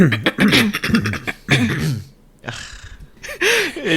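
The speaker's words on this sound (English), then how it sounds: "I need to clear my throat" Several rough throat-clearing bursts from a close voice, short and repeated, with a pause midway and a voice-like hum returning at the end.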